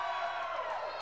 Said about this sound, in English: you can hear the crowd reaction